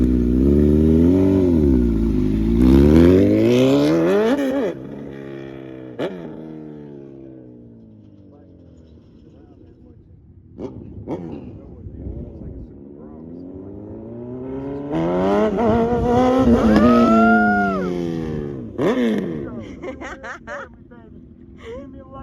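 A Honda CB1000R motorcycle is ridden past, its engine rising and falling through revs and gear changes, loud up close at first, fading into the distance, then roaring back nearby.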